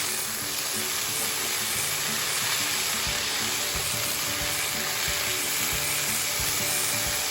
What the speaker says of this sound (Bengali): সেজন্য আমি এটা প্রথমে নুনটা মেশালাম, আমি একটু ভাজতে দিলাম।